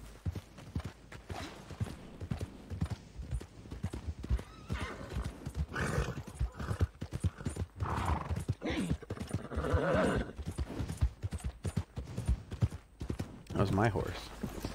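Hooves pound in a fast, uneven galloping rhythm in a video game, with a horse whinnying loudly partway through and a voice speaking over the action.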